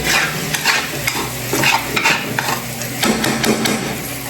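Continuous sizzling and bubbling from a hot pan of garlic, with occasional stirring scrapes, close and fairly loud.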